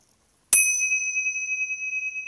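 A meditation bell is struck once and rings on with a bright, sustained, slowly fading metallic tone, close and clear in a quiet room with no voice.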